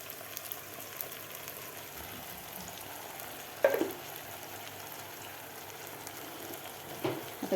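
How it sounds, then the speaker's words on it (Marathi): Onion puree with tomatoes sautéing in a pan for eggplant masala, a steady soft sizzle and fry throughout with a couple of brief clatters of stirring, no talk. "तर प्युरीसुद्धा आपल्याला व्यवस्थित परतून घ्यायची आहे 2 ते 3 मिनिट"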